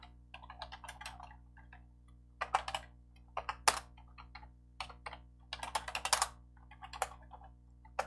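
Someone types a password on a computer keyboard at a Linux console: close, light key clicks in uneven bursts with short pauses, over a faint steady hum.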